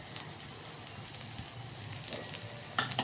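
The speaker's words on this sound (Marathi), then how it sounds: "आता यामध्ये भात टाकून घ्यायचा आहे।" Cooked leftover rice with red chili sauce frying in a hot pan for fried rice, a steady soft sizzle with faint stirring scrapes and a few louder clicks near the end.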